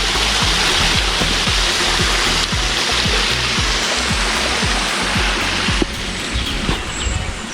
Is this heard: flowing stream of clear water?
yes